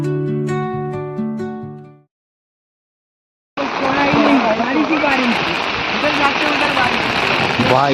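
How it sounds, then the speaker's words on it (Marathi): Heavy monsoon rain at Shivneri fort, a dense steady roar of downpour close by that starts abruptly after a stretch of silence, following a short burst of tonal music. "वाय, लिटरली एवढा जास्त प्रमाणात पाऊस आहे इथं की काय सांगू."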